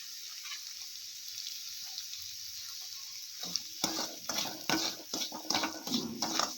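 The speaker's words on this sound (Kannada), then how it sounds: "ತುಪ್ಪ ಸ್ವಲ್ಪ ಕರಗ್ತಿದ್ದಂಗೆ ರವೆ ಹಾಕ್ಬಿಟ್ಟು ರವೆನ ಫಸ್ಟ್ ಹುರ್ಕೊಳ್ಳೋಣ." Semolina roasting in melted ghee in a kadai while carrot obbattu is made, with quiet stirring at first, then louder scraping and stirring strokes in an irregular rhythm up close.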